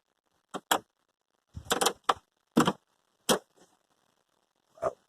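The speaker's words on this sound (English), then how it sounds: "Loud clicking sound." A car that overheated clicks at the starter without cranking: a handful of sharp, separate clicks spaced irregularly over a few seconds, close and fairly loud, with silence between them.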